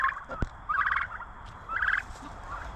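Several turkeys on a small farm gobble in three bursts of rattling calls, moderately close, with a sharp knock between the first two and steady outdoor background noise.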